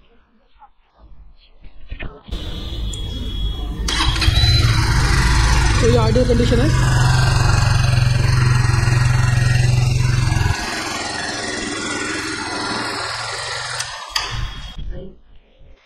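Kawasaki W175 Street motorcycle, BS6 Phase 2 OBD2 model, starts inside a showroom and settles into a steady low idle for several seconds before shutting off, with someone talking over it.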